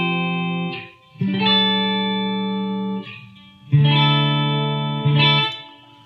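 Clean electric guitar chords played through a Line 6 HD500X ring out with a light reverb tail, struck several times with sustained, bright tones.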